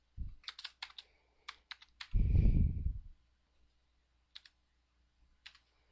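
Light, quick keystrokes on a computer keyboard come in short clustered bursts while address details are entered, with a louder scraping thud partway through and long quiet gaps between taps.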